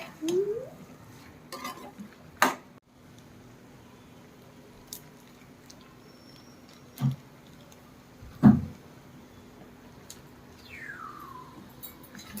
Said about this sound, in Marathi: मस्त हे सगळं मिक्स करून घ्यायचं.